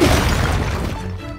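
A bomb goes off in Zelda: Tears of the Kingdom, a loud, close blast already underway, its booming, shattering roar decaying over about a second and a half, with no talk.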